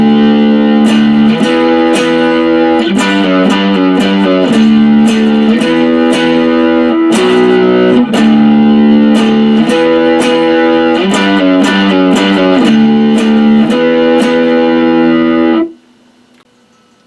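Distorted electric guitar power chords play a riff, loud and rhythmic with repeated chord stabs, for about fifteen seconds before cutting to silence.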